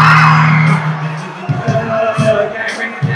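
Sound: crowd of students yelling together at assembly

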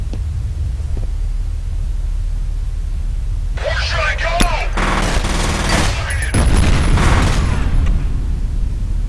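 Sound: grenade explosion and gunfire in the video game F.E.A.R

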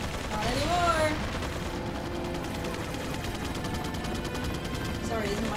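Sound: gunfire in the video game Resident Evil 4

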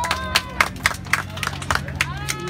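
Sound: applause from audience at children's event

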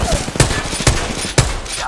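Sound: gunfire in the video game Apex Legends

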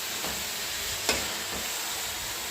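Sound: stirring potatoes into roasted masala with a ladle

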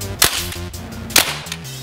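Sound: Umarex Legends M1A1 BB gun firing a shot

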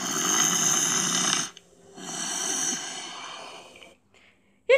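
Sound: snoring

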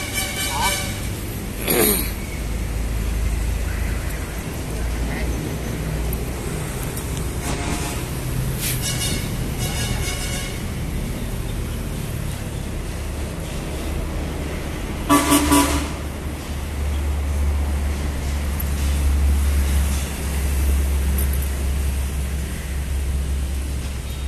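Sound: tractor engine started and running

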